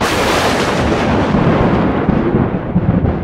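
A loud, sustained roll of thunder rumbles deep and continuous, broad and close, fading slightly toward the end with no voices over it.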